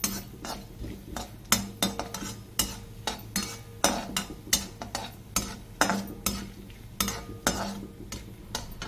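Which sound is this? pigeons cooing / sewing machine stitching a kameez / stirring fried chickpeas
stirring fried chickpeas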